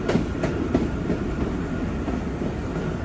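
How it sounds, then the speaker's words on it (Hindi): The Khushal Khan Khattak Express, a Green Line train, rolls along with a steady rumble and rhythmic clickety-clack of wheels over rail joints, heard from close by without talk. "और ये रही हमारी ट्रेन शाह खान खटक एक्सप्रेस ग्रीन लाइन"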